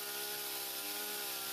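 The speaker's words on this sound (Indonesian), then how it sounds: "memotong kerangka menggunakan gergaji mesin agar bisa mengevakuasi sarang tawon" A chainsaw cuts through a frame behind a mattress to reach a Vespa wasp nest, giving a loud, continuous buzzing whine with a slight pitch dip partway through.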